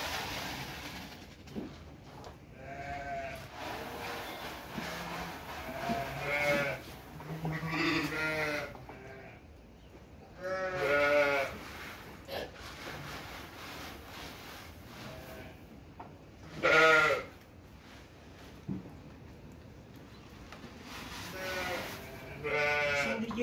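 Sheep and lambs on a farm bleat repeatedly in overlapping calls, some near and loud, others farther off, amid general barn noise during feeding with straw and barley.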